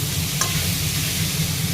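Salted vegetables fry in a pan for chicken pasta, giving a close, even sizzle with a faint low hum underneath and one brief clink.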